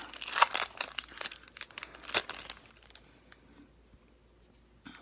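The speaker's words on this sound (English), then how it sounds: "I love me opening some Magic cards" A Magic: The Gathering Dominaria booster pack wrapper is torn open, giving close, loud crinkling and crackling bursts up front that thin into quieter rustles, with a final crinkle at the end.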